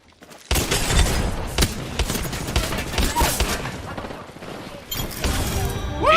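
Rapid bursts of gunfire fill an Apex Legends firefight, dense and loud from start to finish with a brief dip before a renewed burst.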